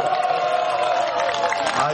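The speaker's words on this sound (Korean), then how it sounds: "환호 박수." Older and younger audience members at a Korean talk event cheer for an author's entrance, a dense, loud wash of shouting voices with only faint clapping mixed in.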